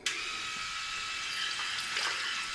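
A Hummingbird MK3 Stealth Edition electric head shaver hums steadily with a high buzzing whine, water hissing alongside it, close and continuous without any voices.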